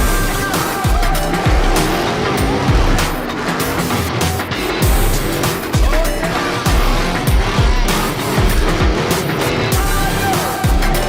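A custom-built '35 Factory 5 truck does donuts and drifts, its engine roaring continuously while the tires squeal and skid in repeated bursts, loud and close, with faint voices in the background.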